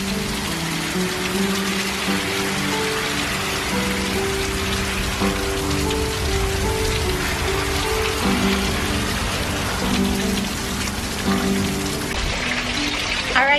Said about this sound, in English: it is a super rainy day